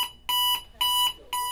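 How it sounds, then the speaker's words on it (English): An alarm clock rings in loud, repeated electronic beeping bursts, about three pulses spaced evenly and close up, with no other sound. "Elias Gatufas never heard the alarm"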